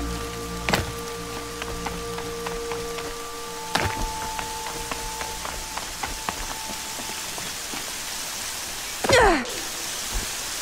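Steady rain hisses down continuously in the Horizon Zero Dawn game world, with a few sharp impacts and ringing tones over it and a brief louder whoosh near the end; no talking.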